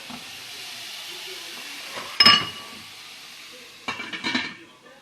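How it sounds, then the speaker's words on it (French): Covered pan of mushroom juice reducing on the stove, a soft steady hiss under two sharper clanks of a metal lid and cookware, with no talking. "on va venir tout simplement mettre notre couvercle pour laisser réduire le jus"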